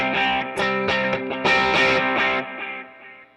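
An overdriven electric guitar acts like a distortion pedal, its gritty midrange-heavy chords strummed in a few close, loud rhythmic hits before ringing out and fading, with no talking.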